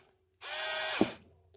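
A Ryobi HP54L cordless screwdriver runs at low speed backing out a screw, giving one steady close whir of the motor and gears for under a second before it stops.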